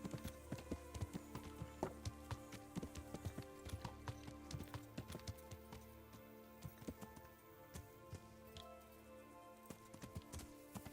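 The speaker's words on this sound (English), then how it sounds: "you're supposed to be one of the best war horses." War horse hooves in Kingdom Come Deliverance drum in quick, uneven clusters at a gallop, quiet and mid-distance beneath game ambience and music.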